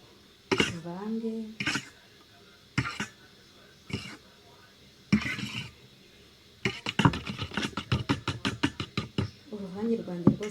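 A spoon clatters and scrapes in a bowl as mandazi dough is mixed with two spoonfuls of vinegar, a quick run of knocking strokes following some nearby speech.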